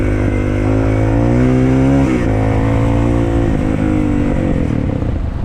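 A Shineray VXR 300 motorcycle engine drones loudly and steadily through a test ride, rising and shifting in pitch as it accelerates, with constant wind-blown noise up close.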